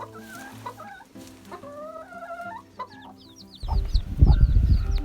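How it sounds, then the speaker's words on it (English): Farm chickens clucking and chattering while foraging around a compost pile, several birds close by with varied calls, ending in a louder burst of rustling and scratching. "the chickens are always looking for food"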